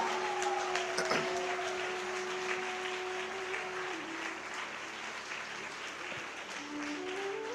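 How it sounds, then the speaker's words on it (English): An audience at a book launch event applauding, a dense steady crowd of clapping hands heard from within the hall, with a faint tonal hum running underneath. "Please give a big round of applause."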